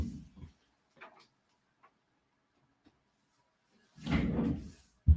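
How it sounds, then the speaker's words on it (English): A door swings shut indoors: faint small knocks, then a rustling sweep of movement and a sharp closing thud at the very end. "I'm going to shut the door."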